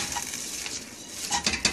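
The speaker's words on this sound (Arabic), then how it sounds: "هاي ضفت عليه الرز" Rice stirred into tomato paste, onion and black pepper frying in a pot for Iraqi maqluba, giving a steady close sizzle broken by a few scraping stirs of a spoon near the end.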